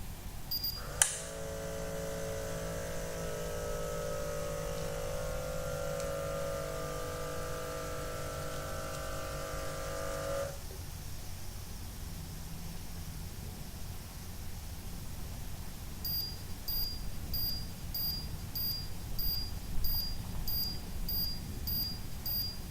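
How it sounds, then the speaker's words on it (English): The small pump of a WIN Pro blood pressure monitor inflates the cuff with a steady, close motor whine for about nine seconds before cutting off, followed later by faint, evenly spaced beeps. "press the start button to begin."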